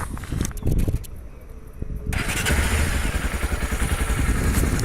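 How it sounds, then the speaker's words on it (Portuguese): A Honda XRE 300 motorcycle engine clatters, briefly catches, then settles into a steady, throbbing idle close by. "eu vou dar a partida nela, só para mostrar, né, que a moto funciona muito bem"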